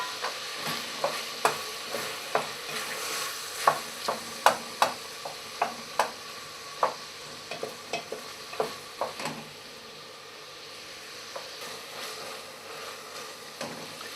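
Chopped onion frying with rendered lardons in a pan, a soft continuous sizzle broken by frequent sharp scrapes and taps of stirring, close and fairly quiet.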